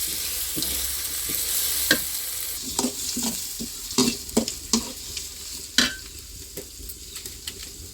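Onions sauté in a pan for a village-style fish curry, a soft continuous sizzle broken by several sharp scrapes and taps of a spoon stirring, close and clear with no talking.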